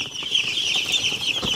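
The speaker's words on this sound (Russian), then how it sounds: "Вот он стоит, последний вылупившийся цыпленок." Ross 308 broiler chicks peeping steadily in a poultry brooder, a dense high chirping chorus throughout, close and fairly loud.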